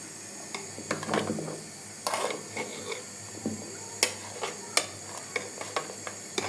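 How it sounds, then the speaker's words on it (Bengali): A pot of nehari curry bubbles on the stove, with soft hissing and a run of distinct pops and spits at irregular intervals, close by and fairly quiet, with no talking. "আল্লাহ, যে বলক চলে এসেছে দেখছেন, অলরেডি বলক চলে এসেছে।"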